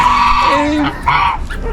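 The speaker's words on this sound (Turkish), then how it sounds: "bir ördek ailesi var" Loud honking and quacking calls from a family of ducks close by in a village near Istanbul, several overlapping cries in quick succession with some background noise.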